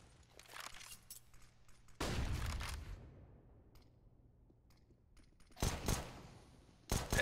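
Desert Eagle pistol shots in CS:GO, a few sharp bursts of gunfire with pauses between, the loudest a heavy crack followed by a decaying tail, then two more late shots, moderately loud.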